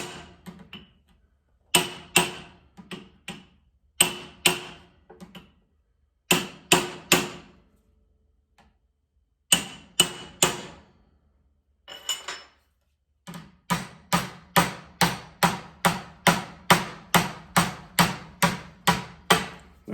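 A body hammer taps the sheet metal of an FJ-40 Land Cruiser cowl vent door in sharp ringing bursts of several blows, separated by pauses, ending in a long, steady run of evenly spaced strikes.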